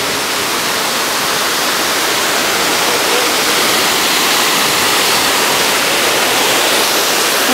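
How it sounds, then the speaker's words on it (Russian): A small waterfall in a narrow Düsseldorf street pours in a loud, steady broadband rush of falling water with no pauses and no voices. "у нас вот такой водопадик"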